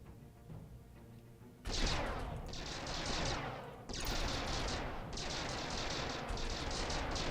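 Ship weapons fire in the space strategy game StarDrive 2 as a series of loud, booming volleys, about four heavy salvos each trailing into a rumbling decay, with no talking over them.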